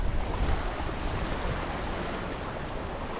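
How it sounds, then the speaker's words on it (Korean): Rough sea surf crashes and churns against a fishing boat near rocky shore, a loud continuous wash of waves with wind noise across the microphone. "지금 파도가 심해가지고 이게 밀립니다"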